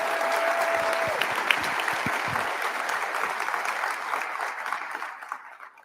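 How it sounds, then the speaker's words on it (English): A crowd at a ceremonial inauguration applauds the county executive in sustained, dense clapping that slowly fades out. "Let's give him a round of applause."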